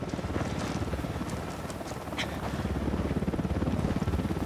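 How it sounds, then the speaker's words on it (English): Helicopter rotor thumping steadily overhead in the tactical shooter Ghost Recon Wildlands, a rhythmic low chop that holds throughout and swells slightly toward the end, with faint game effects above it. "Chopper, hit the dirt."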